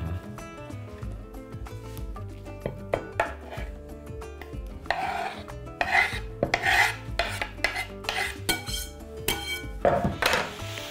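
Knife chopping pickled cabbage and carrot into pieces, a run of crisp, irregular cuts against a board, growing denser and louder toward the end, heard over a steady background bed of music.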